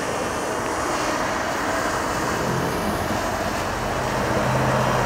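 A small camera drone flies outdoors, its steady motor and propeller drone holding at a constant, fairly loud level throughout with no talk.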